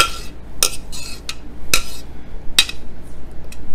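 Utensil clinks and scrapes against a bowl as chopped vegetables are tossed together for shrimp ceviche, with several sharp metallic taps spaced through the clip at moderate loudness and no talking.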